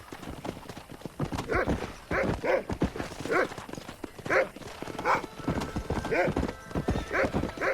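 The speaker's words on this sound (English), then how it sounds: "herding done without a horse" Horse hooves clip-clop at a quick trot in the video game Red Dead Redemption, with a whinny among them and a voice speaking over the hoofbeats.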